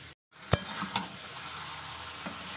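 Chicken pieces being stir-fried and braised with Kashmiri chilli for a Bengali shahi chicken kosa, giving a steady close sizzle with a few sharp scraping knocks of a spatula against the pan.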